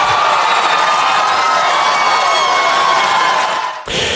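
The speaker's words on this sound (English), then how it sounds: "And the crowd just erupts. I could have probably played that cheer for another 30 seconds or so" A large crowd at a political rally cheers and whoops for about four seconds in a loud, sustained roar, then the noise cuts off abruptly.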